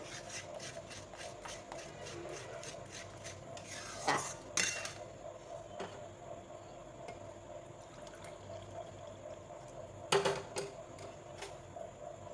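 A spoon stirs hot milk in a pot while palm kheer is being made, producing quick repeated scraping ticks against the metal, broken by a couple of louder clanks, close by and with no talking.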